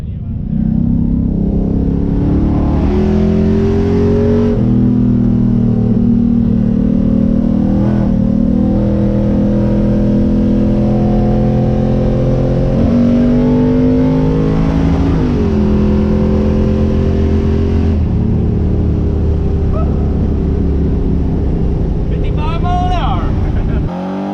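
A car engine fitted with a new torque converter revs repeatedly, its steady drone rising and falling through several climbs in pitch, heard from inside at close range and loud for the whole stretch.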